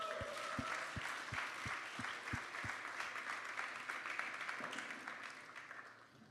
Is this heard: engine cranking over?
no